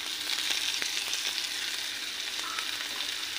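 Chopped onion frying in a pan for a kochur loti (taro stolon) dish, a steady, close hiss of sizzling with faint clicks of stirring throughout, no voices.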